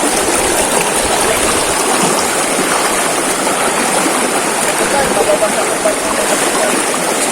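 Strong stream current rushing steadily along a hiking trail in General Nakar, Quezon, a loud continuous broadband roar of flowing water close by throughout, with no clear talk over it.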